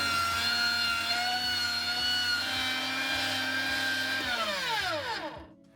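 An electric meat grinder minces foal liver, meat, fat and garlic, a loud steady motor hum with harmonic whine and regular thumps as chunks feed through, then winding down and stopping near the end.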